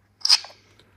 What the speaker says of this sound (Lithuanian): vairo užraktas suveikia.